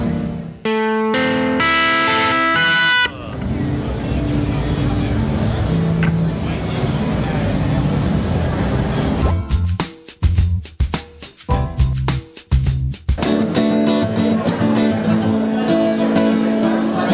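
Electric guitar played through a flat, transparent distortion pedal in a large guitar store. Loud sustained distorted chords ring out first, followed by choppy, stop-start riffing with sharp breaks between the notes.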